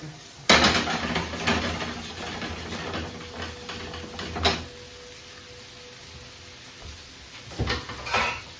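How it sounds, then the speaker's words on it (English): Mushrooms are stirred around a pan for a chicken, smoked bacon and tomato omelette, giving clattering utensil scrapes and knocks, a burst at the start, another midway and more near the end, with quieter gaps between. "In with the mushrooms. Give it a mix around."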